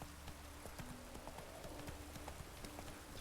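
Hooves of Roach, Geralt's horse in The Witcher 3: Wild Hunt, clip-clopping at a steady walking rhythm, with the game's ambient soundscape running beneath.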